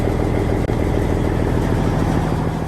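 Diesel engine of a Peterbilt or Kenworth semi truck idling steadily and loudly after a hard start caused by freshly replaced, empty fuel lines, a continuous low rumble with no talk.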